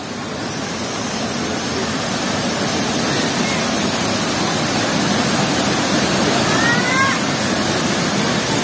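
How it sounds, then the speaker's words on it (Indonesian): Curug Padai waterfall in West Lampung roaring as a loud, continuous broadband rush of falling water, close and steady for the whole stretch, with a brief faint chirp near the end. "Nah, kita mau ke air terjun."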